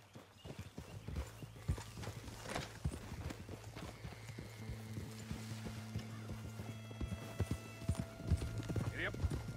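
Horse hooves clip-clop at a steady gallop in the Western video game Red Dead Redemption 2, with a whinny and tack jingling over a low rumble, while voices talk over the ride.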